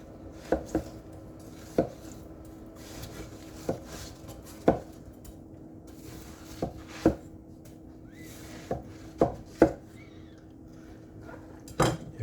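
A Korean Beoseonko knife slicing vegetables on a cutting board: sharp, separate knocks of the blade landing on the board, coming in an uneven rhythm with short pauses between cuts, close and clear over a quiet room.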